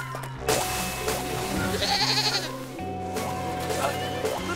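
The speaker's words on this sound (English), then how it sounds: "little goat, stop," A cartoon goat bleats over a bright musical score on a snowy, icy hiking trail, a wavering, shaky bleat rising in the middle of the music, with voices briefly present.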